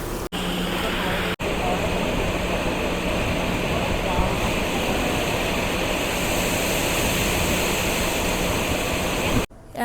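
A torrent of water pours into a giant tipping bucket on the top deck of the Carnival Legend cruise ship, making a loud, continuous roar that holds steady for several seconds.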